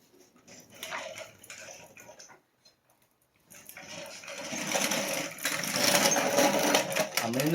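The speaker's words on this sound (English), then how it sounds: "Okay, jacking this up." An EG hatch being raised on a jack during a K-swap engine install, with busy mechanical clicking and ratcheting that pauses briefly in the middle, then resumes louder and more continuous.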